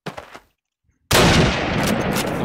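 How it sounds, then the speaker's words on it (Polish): A gunshot in a competitive shooter video game. A few soft thuds come first, then after a brief silence a loud, sudden blast rings out and sustains as a harsh burst of fire and echo. "to jest szybki strzał."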